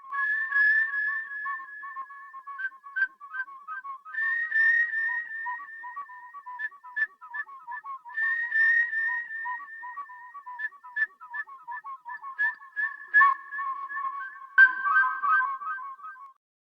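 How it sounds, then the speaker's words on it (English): A whistled melody recorded into Ableton Live with an echo effect, each short tune followed by repeating tails that fade away, playing alone and clear through the whole passage. "Now, to this track, I am going to add an echo effect."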